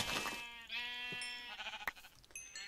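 Sheep bleating in Minecraft, a couple of wavering, tonal bleats close up, with game effects faintly around them.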